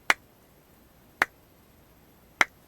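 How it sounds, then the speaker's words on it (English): Three sharp, isolated claps spaced about a second apart, slow and deliberate like a sarcastic slow clap, each a crisp snap against near silence. "Sarcastic slow clap."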